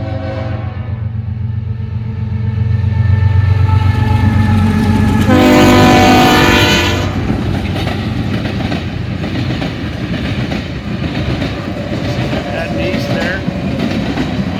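An eastbound mixed freight train rolls past at Deshler, a loud, steady rumble of wagons close by with a long blast of the horn sounding over the roar midway through.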